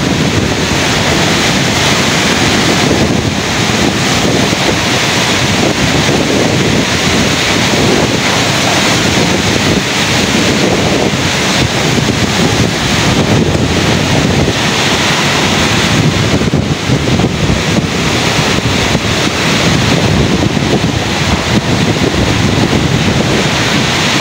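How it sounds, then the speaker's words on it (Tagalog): Strong typhoon wind roars over crashing sea waves for a sustained stretch, loud and unrelenting, with heavy gusts buffeting the microphone and no speech. "Habang dumidilim, lalo pang lumalakas si Christine."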